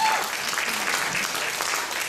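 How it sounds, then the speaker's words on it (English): A room full of listeners breaks into loud, dense clapping, an even wash of hand claps with faint voices underneath. "You can get a hand clap for that."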